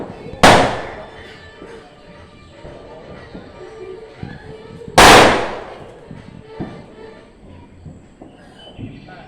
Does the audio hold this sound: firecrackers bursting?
yes